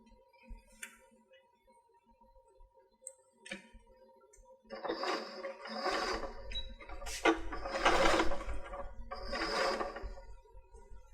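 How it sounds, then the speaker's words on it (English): Sewing machine stitching paper-pieced fabric, starting with faint ticks and handling noises, then several close bursts of steady whirring stitching with brief pauses between. "Let's go sew these."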